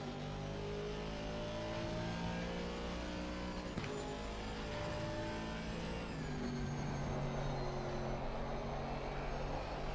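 Race car engine in a sim racing game at Kyalami, a Formula 4 car in a long race, droning steadily at high revs with a gear change partway through, loud and continuous with no talk.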